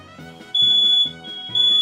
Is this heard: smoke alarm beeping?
yes